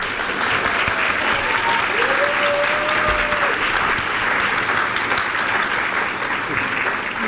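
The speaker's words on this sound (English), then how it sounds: "they're worth another round of applause, I think." A crowd applauds steadily throughout, dense continuous clapping at an even loudness with no talking.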